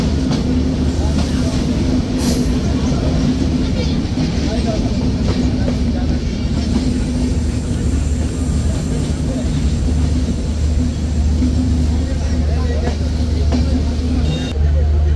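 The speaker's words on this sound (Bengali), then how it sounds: "ট্রেনটি প্রবেশ করছে খোকসাতে।" The Madhumati Express train rolls into Khoksa station with a loud, steady rumble and clatter of wheels on rails that continues throughout, while a voice speaks over the noise.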